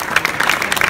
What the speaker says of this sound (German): da kann er schon einen Applaus für kriegen